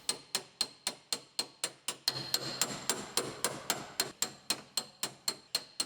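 A pneumatic weld breaker hammers rapidly at spot welds on a Ram Promaster City van body, a steady metallic rattle of sharp evenly spaced blows that quickens in the middle, close and with no talking.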